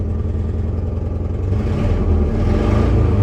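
A Ford Ranger engine idles rough with an exhaust leak and a skip, a steady, loud, close, low rumble throughout with no talk.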